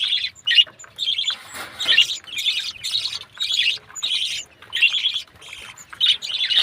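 Pairs of pet birds in a colony feeding in the morning chirp and squawk in a busy, overlapping chatter, close by and loud, with barely any gaps.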